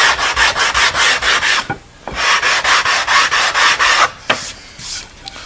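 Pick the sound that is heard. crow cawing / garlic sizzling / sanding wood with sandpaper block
sanding wood with sandpaper block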